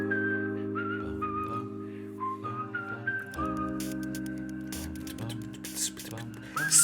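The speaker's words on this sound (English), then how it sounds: "I like how the instrumentations kick in here with the whistle" A whistled melody carries over a layered instrumental backing in a song. The line moves through rising and falling notes while drums and other instruments build in beneath it, and the mix grows busier toward the end.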